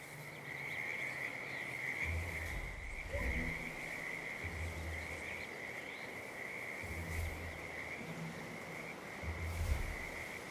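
Frogs croak near a creek in the video game Hitman 3, low rumbling calls in repeated bursts over a steady high insect-like drone, with no talk.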